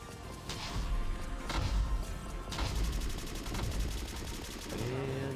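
Drip cannon, a weapon in the Fashion Police Squad video game, fires in dense bursts of rapid repeated shots across an arena, loud and continuous over game effects with no talking.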